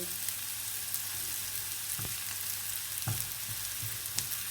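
Onions sautéing lightly in a pan for a potato grill sandwich, a steady dense sizzle with a few soft stirring knocks, close and even, no talking.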